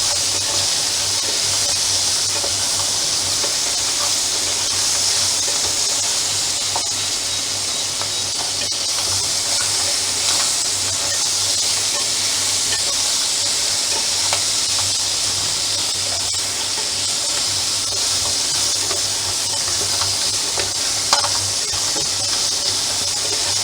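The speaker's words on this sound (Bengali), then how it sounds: "কাঁকড়াটাকে অল্প একটু ফ্রাই করব।" Crab pieces frying in hot oil in a home kitchen for a Bengali crab curry, giving a steady, close, continuous sizzle and hiss that holds level throughout with no talking.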